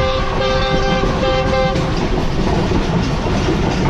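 The Karakoram Express train rolls toward Faisalabad railway station: sustained horn tones sound for the first couple of seconds, then give way to a loud, steady rumble of the moving train.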